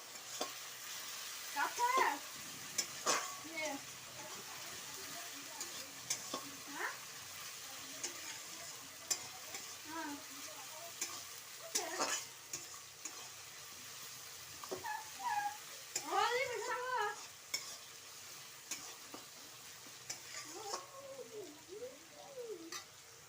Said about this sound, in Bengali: রসুন বাটা দিয়ে দিচ্ছি। দেখুন রসুন পেঁয়াজটা আমার লাল লাল হয়ে গেছে, রসুন বাটাটা দিয়ে দেবো। রসুনটা দিয়ে একটু নেড়ে দিলাম।